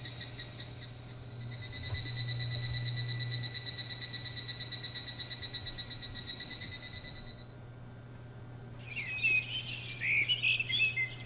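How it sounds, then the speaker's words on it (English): Birds chirp in a calm morning scene of the Higurashi video game, a steady high chirring at first that cuts off, followed by a few bright, scattered tweets near the end. "The chirping birds made me feel at ease."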